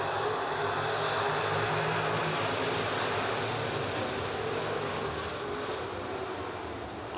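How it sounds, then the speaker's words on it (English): Late model street stock race cars at I-90 Speedway roar past in a dense, steady wall of engine noise that stays loud and unbroken throughout, with no talk over it. "TNR Contracting late model street stocks getting it on."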